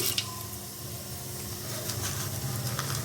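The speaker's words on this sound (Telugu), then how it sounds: "ఇప్పుడు ఆయిల్ కాగింది కదా, కొద్దిగా జీలకర్ర, కొద్దిగా ఆవాలు," Cumin and mustard seeds sizzle in hot oil, a steady close crackling hiss with faint pops that runs through the whole stretch and carries no talk.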